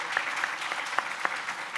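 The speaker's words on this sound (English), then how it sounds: "give her a round of applause" Audience applause at a panel on social justice and cannabis, a steady, dense patter of many hands clapping that fills the whole stretch at moderate loudness.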